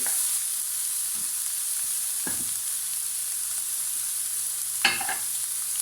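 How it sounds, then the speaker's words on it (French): Peppers and onion frying in a pan for a tuna pizza, a steady high sizzle with a few wooden-spoon knocks and scrapes as they are stirred, close and without speech. "Alors, avec la cuillère en bois, on vient mélanger."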